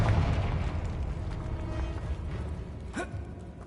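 A Confringo fire spell in Hogwarts Legacy goes off as a low, rumbling magical blast over faint game ambience, with a brief swooping burst near the end.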